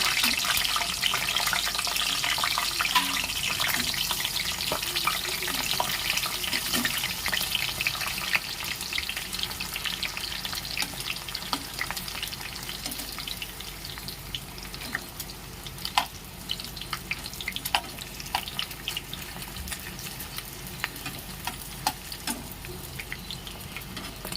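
Kathiyawadi bhungla fryums crackle and sizzle in hot oil in a home kitchen, a continuous bright frying hiss with scattered pops and faint utensil stirring running throughout.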